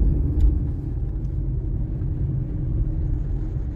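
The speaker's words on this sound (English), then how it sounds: "Traffic on the freeway." Freeway traffic in Las Vegas rumbles steadily, a continuous low drone of passing cars heard from inside or at a distance, with no talk.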